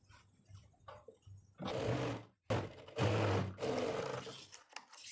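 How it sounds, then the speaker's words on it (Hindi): A sewing machine stitches the seam of palazzo pants in bursts, whirring loudly for a second or so at a time with short pauses and a quiet hum in between. "आपने बिल्कुल सॉफ्ट हाथों से मशीन चलाते जाना है"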